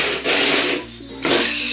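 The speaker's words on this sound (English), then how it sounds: "It's the wind up toy. Ola. Gonna wind it up." A Frozen Olaf sled wind-up toy being wound, giving two loud, close bursts of rapid ratcheting clicks separated by a brief pause, with no talking.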